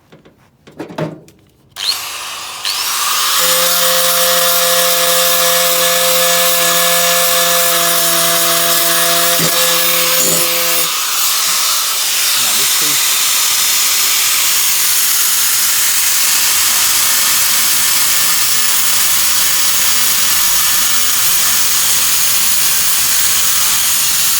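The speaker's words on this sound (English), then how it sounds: "So I got the grinder, my glasses to keep my head safe, and quickly start grinding it down." An angle grinder grinding down metal during a buggy build, a loud continuous high whine that starts after a few brief knocks, holds a steady tone, then shifts to a rougher grinding roar, close and alone.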